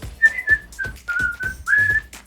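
A person whistles a tune, a short run of clear, close melodic notes with brief breaths between phrases.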